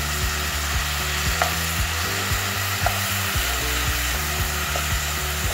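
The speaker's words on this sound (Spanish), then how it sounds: "Cuando la cebollita esté dorada, ahí le vamos a incorporar la carne." Onion frying in a pan for bolognese sauce: a steady, close hiss of sizzling oil with faint clicking and scraping underneath, constant and fairly loud with no talk.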